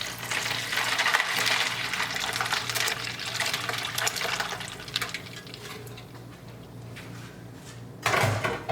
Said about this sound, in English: So I use ice cube, and then you're gonna mix it together.